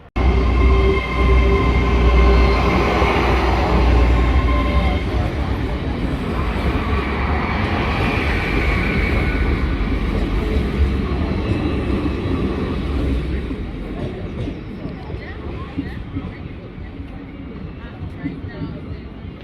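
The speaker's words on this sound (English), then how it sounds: "they're waiting for the train to come through" A train rumbles steadily past close by through the town of Lincoln, a loud continuous roar and clatter of wheels that slowly fades toward the end.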